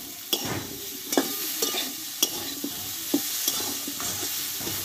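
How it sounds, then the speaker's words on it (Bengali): Long beans and potatoes stir-fried in a pan for a Bengali borboti dish, a steady sizzle broken by a handful of spatula scrapes and knocks at irregular intervals, close and moderately loud with no talking. "এবার বরবটিটা আলুর সঙ্গে একটু ভালোভাবে কষিয়ে নেব"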